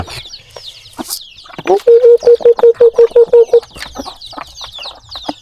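Chickens cluck and squawk in a morning farmyard, with a run of about nine loud, evenly spaced calls from one hen close by amid scattered softer clucks and bird chatter.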